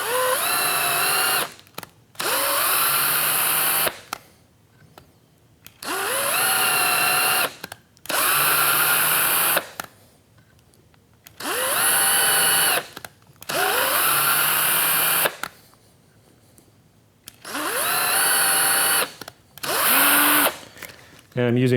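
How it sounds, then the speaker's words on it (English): A power drill drives a form tap into a 3D-printed carbon-fiber nylon machine part, whining loudly in six repeated bursts of a few seconds each, separated by short pauses, with no voices. "I'm actually using a form tap here. And I know doing this in a drill is not the ideal way to do it"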